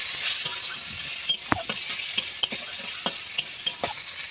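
Green chillies and five-spice seeds sizzle in hot oil, a steady frying hiss broken by sharp clicks and pops of stirring.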